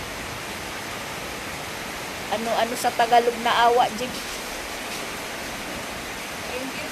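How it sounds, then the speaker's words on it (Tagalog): A steady, dense hiss of heavy rain pours down in Tacloban, Philippines, with a person speaking briefly over it. "Tapos ayan, timing, maulan dito."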